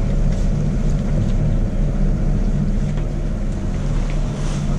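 Steady, loud wind roar mixed with a boat engine's low drone as a sailboat heads into a Mediterranean harbour at Port Leucate, continuous throughout with no talk.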